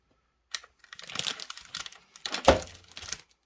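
Sculpting material being cut into pieces by hand, a run of close, dry cracking and crinkling snips with one sharper snap near the end, no talking.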